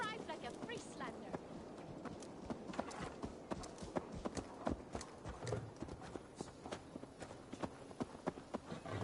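Horse hooves clip-clop at a brisk, steady rhythm in Assassin's Creed Valhalla, loud and close, with voices talking over the galloping.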